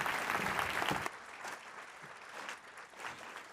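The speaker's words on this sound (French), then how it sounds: "On applaudit à nouveau la ministre." An audience at a health conference opening applauds the minister, a fuller burst of clapping at first that thins to lighter, scattered claps, moderately distant and without talk.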